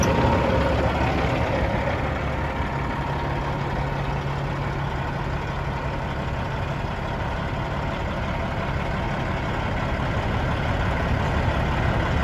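A Cat-powered 2016 Kenworth W900L glider-kit day cab truck idling, its diesel engine a steady, even low rumble that holds unchanged throughout, close by and with no talking.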